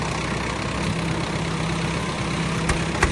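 A heavy tractor engine runs steadily with a low, constant rumble, close by, with a couple of sharp clicks near the end.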